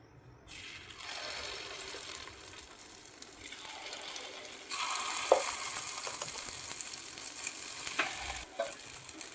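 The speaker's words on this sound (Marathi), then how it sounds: "आपलं तेल टाकून झालेलं आहे। आता आपण यामध्ये मिश्रण टाकूयात" Bhagar appe batter sizzling as it goes into a hot, oiled appe pan: a steady, faint hiss that swells louder midway, with small clinks and scraping of utensils, no talk.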